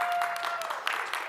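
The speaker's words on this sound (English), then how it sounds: "No, no, please, please, don't clap." A conference audience breaks into brief applause after a live coding demo, a short patter of scattered clapping with a faint tone underneath.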